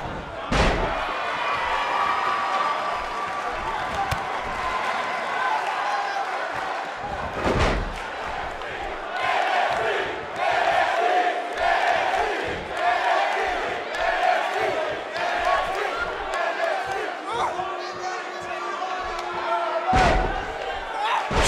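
An arena crowd cheers and roars in the WWE 2K18 wrestling video game. Heavy slams and thuds land at intervals through the noise, and a commentator talks over it.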